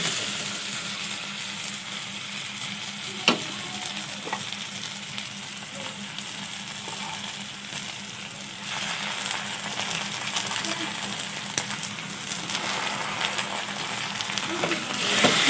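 Spices frying in a pan of oil for an egg tadka give a steady, close, loud sizzle that runs the whole time, with a few sharp clinks and stirring scrapes breaking through.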